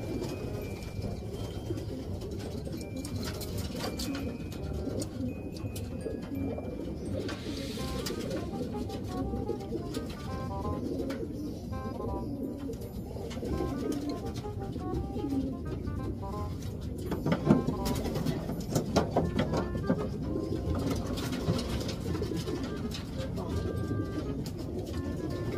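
Racing pigeons coo softly in a loft, low repeated throaty calls amid wing flutters and general bird activity, with faint background noise throughout.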